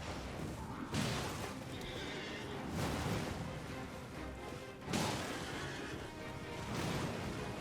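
A horse neighs in a fantasy video game, a long whinnying cry rising out of a washing, surf-like ambient roar, with loud swells recurring every few seconds and game sound throughout.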